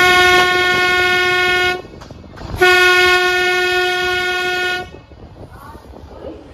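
An Ooty toy train sounds its horn loudly and up close, in two long sustained blasts separated by a short break. Rail running noise lies underneath and fades as the horn stops.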